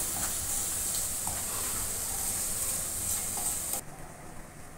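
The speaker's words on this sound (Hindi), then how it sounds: "अब हम ग्रेवी में यह मसाले अच्छी तरह से मिक्स कर देंगे" Spices with ground green chili are stirred into a sizzling palak paneer gravy in a pan. A continuous hiss runs under soft stirring scrapes, then the sound drops abruptly near the end.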